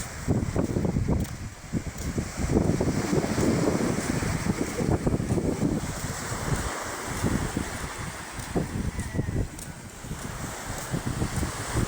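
Wind buffets the microphone while waves wash steadily onto a seashore lined with small boats in Buenavista, Tandag City, Surigao del Sur, a constant loud rumble with surging surf and no talking.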